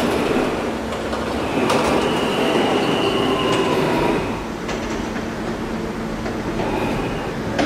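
A D subway train in a video game runs steadily along the track, with a continuous rumbling roar, periodic rail clatter and occasional high wheel squeals, loud and close throughout.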